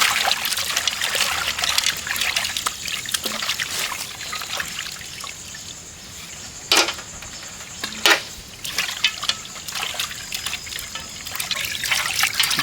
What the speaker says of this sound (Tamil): காடையை நல்லா கழுவி எடுத்துக்கணும்.